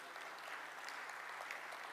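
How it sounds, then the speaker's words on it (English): Steady applause from a crowd at a church plenary assembly, continuous and even throughout, heard from a distance at a modest level. "A big clap for the Bishop Coordinator today."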